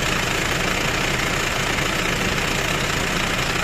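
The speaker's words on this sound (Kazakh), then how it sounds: "Мына мотордун звугун өзүңүздөр бир сыйра угуңуздарчы" A Kia Bongo Porter 3 van's engine idles steadily and evenly, a continuous close rumble with a fine knocking texture and no voices over it.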